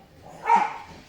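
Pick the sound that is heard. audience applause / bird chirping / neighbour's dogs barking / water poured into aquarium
neighbour's dogs barking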